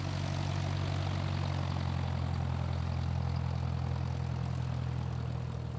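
A propeller airplane flying in to land to an island, heard from inside as a steady, loud droning engine hum with a strong low tone that holds unchanged throughout.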